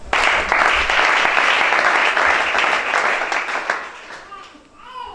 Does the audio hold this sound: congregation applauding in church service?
yes